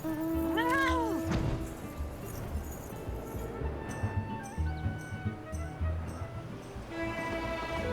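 A cat meows in Final Fantasy XIV, with a distinct pitched meow near the start rising over a busy game backdrop of music and ambient effects, followed by softer chimes and tones.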